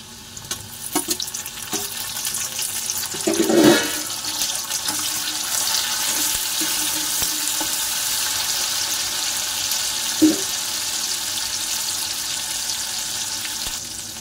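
Onion and tomato frying in a pan for stuffed eggplant, a steady close sizzle with a few stirring scrapes and clatters, no talking.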